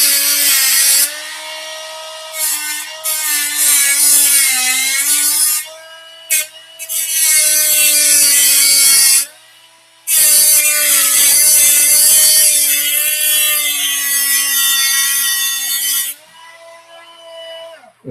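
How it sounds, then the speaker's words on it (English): A small Dremel rotary tool with a grinder head grinds the point off a real steel part, a loud, steady whine with brief pauses, about 18 seconds long, no talking. "I take my little grinder head on my Dremel, and I grind the point off."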